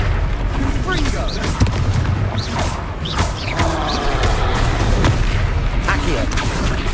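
Loud booming blasts and crackling bursts from the Confringo blasting spell in a Harry Potter video game, repeated over dense, continuous noise with voices mixed in.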